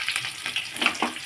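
Onions frying in a pan for a home-cooked meal with beans and potatoes, a steady close hiss with a few brief crackling bursts over a short stretch.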